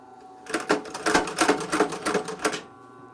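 A leather sewing machine runs in a short, fast burst of stitching, its rapid mechanical clatter rising and falling for about two seconds before stopping, close and fairly loud, with no talking.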